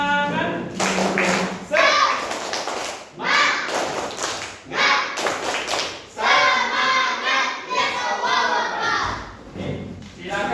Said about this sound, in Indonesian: sebelum presentasi kita tepuk semangat dulu, biar gerakan tangannya